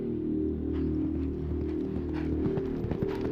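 A 700-kilo horse at full gallop produces a steady, rapid drumming of hoofbeats close by, rhythmic and continuous throughout with no voices.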